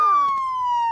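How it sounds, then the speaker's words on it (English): A cartoon siren sounds in one short, loud, clean tone that slides slowly downward with bright harmonics, with a brief voice-like blip in the middle. "Not the siren, Howie!"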